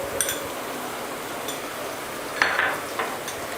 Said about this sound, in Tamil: அந்த வெங்காயம், தக்காளி, புதினா இது எல்லாமே நல்லா ஒன்றா சேர்ந்து மிக்ஸ் ஆகிற அளவுக்கு நம்ம வதக்கிக்கணும்